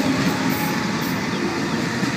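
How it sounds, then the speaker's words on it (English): Sydney Trains A80, the last Waratah set to enter service, pulls away toward Liverpool with a steady, close rumble and faint wheel clatter, a brief high squeal riding over the constant low roar. "A80, the last Waratah to enter into service, departing for Liverpool"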